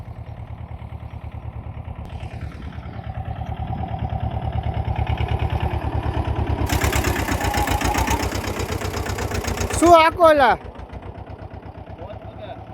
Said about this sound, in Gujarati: હું તમને બતાવું કે કેવું ટ્રેક્ટર હાલે છે